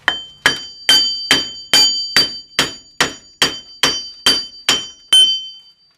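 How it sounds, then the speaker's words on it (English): Metal hammer taps on a bolt-on wheel bearing hub, driving it out and back in: twelve sharp, evenly spaced ringing strikes about half a second apart, close and loud, with no talking. "I tap it out that way a little bit, then I'll tap it back in"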